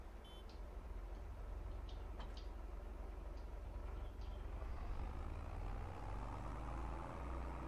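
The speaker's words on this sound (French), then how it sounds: "Hop, on va prendre le tracteur." A tractor driving in the farming video game Farming Simulator 22, a steady low engine rumble with faint ticking clicks over it, continuous and even throughout.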